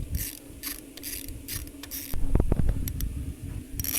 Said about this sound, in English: pop the 2 screws back in, the one underneath first and then the one on the back